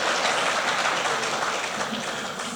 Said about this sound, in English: I hope you'll clap